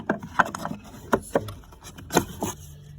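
Scrap wood pieces knock and scrape as they are set inside a battery box for a camper build, a few close, uneven wooden clunks with rubbing between them.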